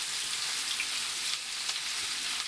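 Shrimp fry in a pan with cilantro tossed in, giving a steady, even sizzle that crackles throughout at close range, with no voices.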